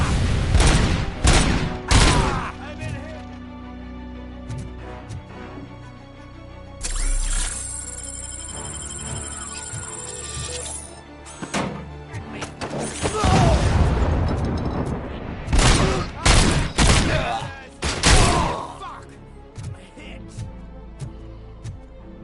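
Gunfire in the video game Robocop: Rogue City: bursts of loud, booming shots and explosions come in clusters, with a long rumbling blast in the middle and a quieter gap between volleys.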